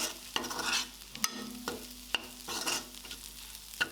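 Egg cooks in a pan for an egg pulao while a spoon stirs it, giving quiet, intermittent scraping taps over a faint background sizzle.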